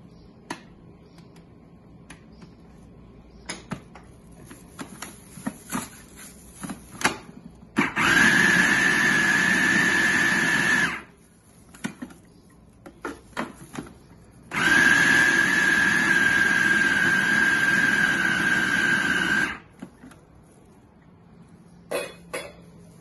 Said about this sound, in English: Don't put it so for a long time in the food processor, just to get the parsley and the onions.